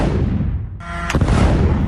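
Heavy artillery firing near the Indonesian hospital in Gaza: a sharp blast cracks out midway through a constant loud rumble of background noise, with no voices.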